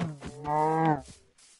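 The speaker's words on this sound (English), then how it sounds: "Cows!" A cow moos in the Minecraft video game, one long, tonal, drawn-out call after a couple of short lead-in grunts, fairly close and clear with no talk over it.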